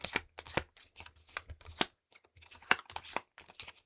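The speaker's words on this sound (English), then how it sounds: "Shuffled into the deck." Board game cards, zombie cards, are shuffled into a deck in quick, crisp bursts of riffling and flicking, close and fairly quiet, with short pauses between passes.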